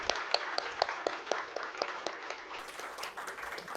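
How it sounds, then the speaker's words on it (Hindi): Crowd applause welcoming guests at a live event in Delhi honouring government school students back from Paris, a dense run of hand claps that stays steady and moderately loud for the whole stretch. "जोरदार तालियों से अभिनंदन और स्वागत।"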